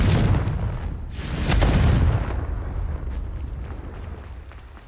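The Confringo blasting spell goes off in Hogwarts Legacy, two heavy booming blasts in quick succession near the start, swelling into a deep rumble that slowly fades, with faint crackles trailing afterward.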